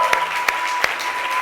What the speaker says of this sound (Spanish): Le damos un buen aplauso